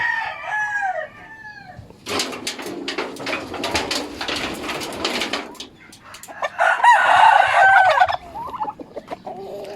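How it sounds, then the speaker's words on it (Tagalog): A rooster on a farm with newly hatched peafowl, with bird calls and clucking throughout and a louder crowing burst near the end, alongside other fowl sounds. "Kaya andiyan yung barako natin ito."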